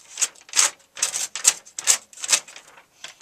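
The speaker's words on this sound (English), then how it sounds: "Now, paper can go like this" Sheet of paper rubbed and scraped as a percussion instrument, playing about eight short rhythmic swishing strokes, close and fairly loud, with no talking.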